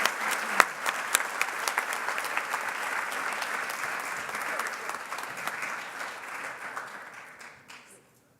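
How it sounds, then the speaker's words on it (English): An audience at a 2019 business leaders gala applauds an honoree, dense steady clapping filling the room for several seconds before fading out at the end. "Let's give an applause to Ms. Patricia Hemingway Hall"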